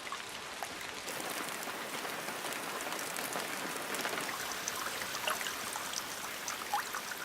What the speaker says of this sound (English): Precipitation falls incessantly throughout what is now the Amazonian rain season